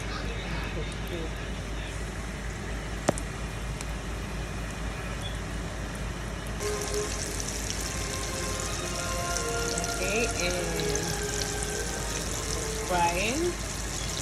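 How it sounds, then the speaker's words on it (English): Steady sizzling of Guyanese-style fish cakes frying in hot oil, a constant crackling hiss under a person talking nearby. "I have to fry this until it's brown."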